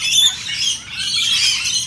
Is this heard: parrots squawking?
yes